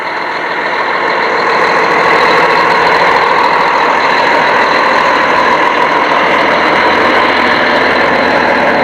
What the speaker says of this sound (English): This is a big Mack here. It's a 1987 rescue truck from Susquehanna Township.